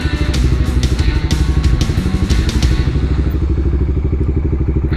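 A 1990 Honda GB500 motorcycle runs close by with a loud, steady, throbbing engine beat, its single-cylinder pulses clattering rapidly and evenly throughout.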